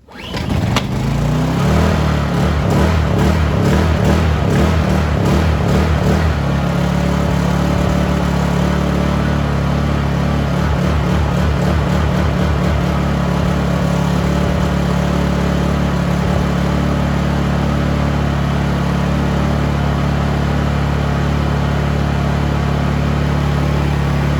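A Honda EU-series inverter generator with a replaced carburetor starts and runs without the choke. Its close, loud engine drone pulses unevenly at first, then settles into a steady hum with no voices.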